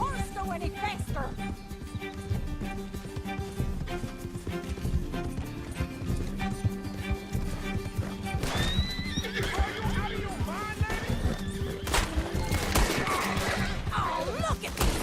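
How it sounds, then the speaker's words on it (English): A horse gallops with rapid clip-clop hoofbeats and neighs in Red Dead Redemption 2, set under game music, gunfire bursts and character voices talking. "Can't this horse go any faster?"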